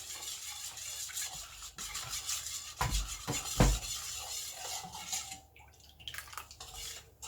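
Sourdough starter being stirred into water in a bowl, with soft scraping and clinking of a utensil against the bowl in an irregular rhythm, plus a couple of louder knocks midway.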